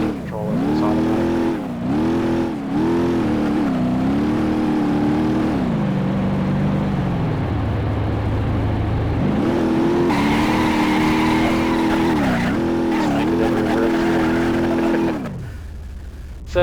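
A car engine in the BeamNG.drive driving simulator, an automatic forced through manual shifts, revs up and drops repeatedly as gears change, with a lower steady drone in the middle before climbing again and cutting off at the end.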